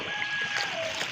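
Water rushing along a street turned into a river after rain in Santa Cruz, Bolivia, a steady close hiss of flowing current with a few brief high tones over it.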